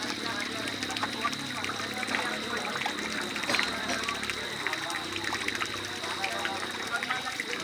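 Water trickles and splashes steadily in a fountain at the Shyamkur coffee house, a continuous close wash of falling water over outdoor background noise.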